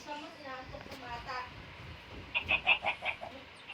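A voice talks, then a quick burst of five or six rooster-like clucks from gamefowl in a video game rings out, fairly loud and close.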